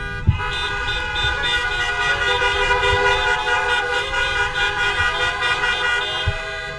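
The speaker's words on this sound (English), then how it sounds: "the honks really help" Car horns honk at a drive-by graduation ceremony, many overlapping loud toots and sustained blares layered continuously over idling traffic.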